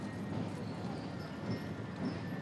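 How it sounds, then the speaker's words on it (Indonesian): Faint, distant hooves of horses clip-clopping as they enter the gate of Istana Merdeka during the Indonesian Independence Day flag procession, a soft steady patter under broad outdoor crowd noise. "sayup-sayup kita dengar derap langkah kuda memasuki gerbang Istana Merdeka"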